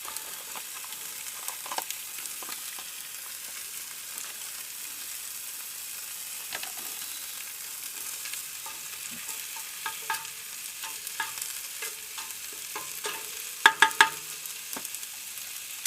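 Onions dusted with steak seasoning fry in a pan with a steady, close sizzle that holds throughout, broken by occasional stirring scrapes and a few louder clinks near the end; no one speaks.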